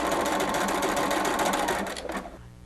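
A sewing machine runs in a fast, steady stitching rhythm for about two seconds, then slows and stops, leaving a faint hum.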